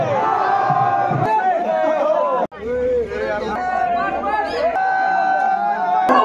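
A big crowd at the Kavathe Bagad village yatra festival in Maharashtra shouts and cheers loudly, with chanting voices and babble, broken by a couple of abrupt cuts.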